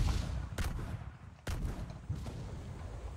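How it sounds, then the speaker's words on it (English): Bombs firing at ships in the Pirate Clash video game, a few sharp distant-sounding blasts spaced apart over a low rumbling background, fairly faint overall. "Destroy those ships with those bombs."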